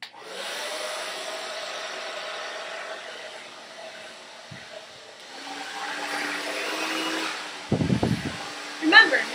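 Hair dryer blowing steadily as hair is blow-dried with a round brush, a constant whooshing hum that shifts in pitch as the airflow changes, with a brief clatter near the end.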